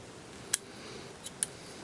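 Three small, crisp metallic clicks from the firing pin block of a Detonics .45 pistol sliding into place, close and faint against quiet room tone, the first click sharpest.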